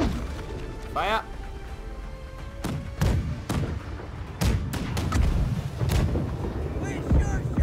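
Several sharp cannon blasts from a ship's side battery in the Blackwake pirate naval game, a string of loud booming shots spaced over a few seconds amid shouted speech and battle noise.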